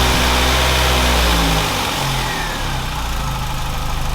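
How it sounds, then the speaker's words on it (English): Engine of a £400 hot hatch track car running loud and close, a steady rumbling idle that drops slightly in level partway through, with no talk. "Let's start the car and see what it sounds like."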